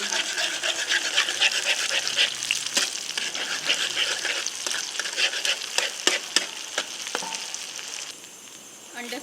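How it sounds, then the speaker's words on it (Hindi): Oil sizzles hard in a pan as eggs fry for chicken manchurian, a close, continuous crackling hiss with sharp pops and spits, easing slightly near the end. "फ्राई करूँगी।"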